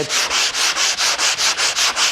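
Rhythmic back-and-forth hand sanding with a soft sanding pad, about nine even scratchy strokes in quick succession, close and fairly loud, no talking.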